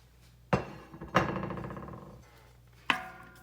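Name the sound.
adding diced hog jaws into pot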